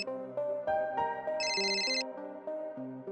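A mobile phone rings with a melodic electronic ringtone for an incoming call, repeated tonal notes with a bright higher chime midway, loud and close with no talk over it.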